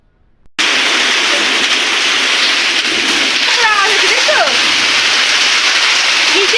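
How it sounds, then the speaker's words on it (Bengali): Heavy rain mixed with falling hail roars as a dense, steady wash that starts abruptly and stays loud and close, with faint voices underneath. "তোমরাই দেখো কীরকম বৃষ্টি হচ্ছে আর কীরকম শিল পড়ছে"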